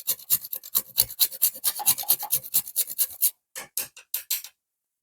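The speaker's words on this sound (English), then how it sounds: "I'm just going to grate a bit of nutmeg" Whole nutmeg scraped rapidly against a grater over a smoothie, heard as close, rhythmic raspy strokes in quick succession that briefly pause, resume more slowly and then stop.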